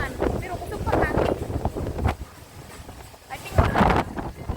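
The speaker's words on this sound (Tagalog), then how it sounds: "Kusog lang siya ang hangin." Strong wind gusts buffet the microphone outdoors in Hong Kong after a typhoon, coming in loud rumbling bursts that swell and fade, with people talking in between.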